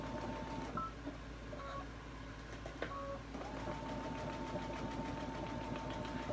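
A sewing machine stitches decorative patterns on a quilted table runner, a steady fast mechanical whir with faint rhythmic clicking and a few brief beeps, heard quietly and alone.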